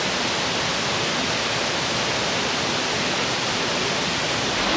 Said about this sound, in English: We can hear it. Some running water.